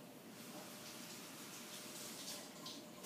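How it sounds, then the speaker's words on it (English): Cilantro is rinsed under running water in a sink, a steady, even gush of tap water that lasts the whole few seconds and stays fairly quiet. "Nice rinse in the sink."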